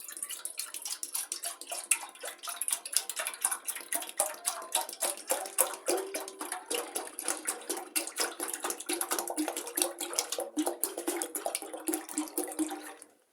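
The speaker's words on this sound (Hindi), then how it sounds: "बोली की बनाने के लिए सबसे पहले मैं देगची में डालूंगी दूध।" Milk pours steadily into a cooking pot for a kheer, a continuous close splashing, gurgling stream that runs for about thirteen seconds before cutting off.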